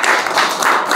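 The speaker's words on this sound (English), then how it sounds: "Please clap for them." An audience claps together for a short burst, a quick patter of hands that swells and dips over about a second.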